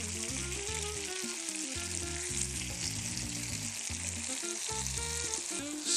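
Vegetables and green peppers fry in a pan with a steady close sizzle and crackle, while background music plays along underneath throughout.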